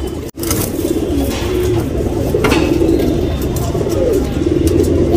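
A male tournament racing pigeon cooing, a repeated low throaty burble close by, with other birds and a faint clink in the background after a brief opening knock.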